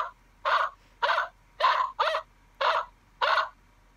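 A toy gives out six short, raspy barking yelps in a steady rhythm, evenly spaced, with quiet gaps between them.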